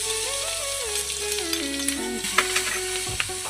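Green chili paste fries in hot oil in a pan with cumin seeds, curry leaves and a pinch of asafoetida. A steady sizzle is heard up close with occasional stirring clinks, and a faint tonal hum runs beneath it.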